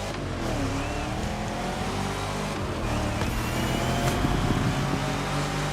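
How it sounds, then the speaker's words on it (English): Race car engines roaring in The Crew Motorfest, including a race against an ice cream truck, a continuous loud revving drone with shifting engine pitch and no talking over it. "Now I'm racing against the ice cream truck."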